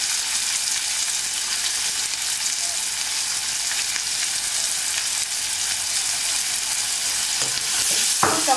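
Radish chutney stirred with a spoon in a pan over a low flame: a continuous bright sizzle runs throughout, with a few louder scraping strokes near the end and no talking.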